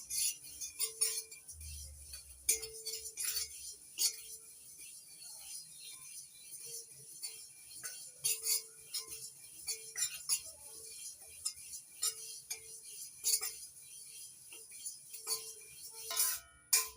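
Sesame seeds stirred and roasted in a pan over a medium gas flame, with repeated light scraping, ticking and clinking of a utensil against the pan in irregular bursts, fairly close and without talk.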